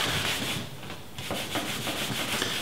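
Pure cotton cloth rubs beeswax polish over wooden furniture, a steady soft hiss of fabric sliding across the surface with gentle back-and-forth swells, close and quiet with no talking.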